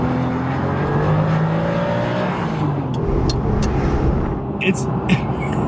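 A Ferrari 550 Maranello engine revs and pulls through the gears, loud and close, then shifts as it surges past with a rising, throaty roar.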